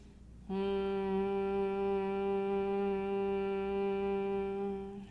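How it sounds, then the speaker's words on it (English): A steady humming exhale, one long low buzzing tone held for several seconds with an even drone, close and fairly soft. "We hum for the full extent of our exhale"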